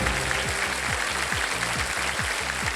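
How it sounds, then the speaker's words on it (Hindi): Studio audience on the TV quiz show Kaun Banega Crorepati applauding, dense steady clapping that fills the whole moment, with no voices over it. "सबसे पहले जो ताली बजी वो उधर से बजी है।"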